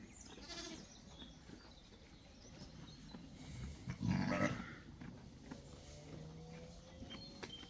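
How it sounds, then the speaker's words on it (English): A ewe bleats on a farm during lambing season, one clear call standing out around the middle over a steady outdoor background hum, moderately near and otherwise alone. "That ewe there is one of my ewes."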